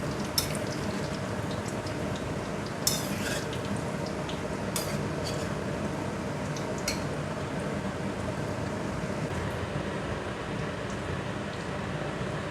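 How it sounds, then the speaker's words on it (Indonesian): Tofu skin (kembang tahu) fries in a pan of oil, giving a steady, dense sizzle throughout with occasional light clinks of utensils against the pan. "Goreng kembang tahu ya,"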